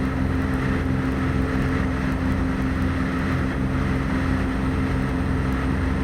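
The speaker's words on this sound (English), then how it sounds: "Very quickly up in the air in the RV10." The engine of an RV10 light aircraft in flight drones loud and steady throughout, with a low hum, a strong tonal buzz and rushing wind noise, and no voices.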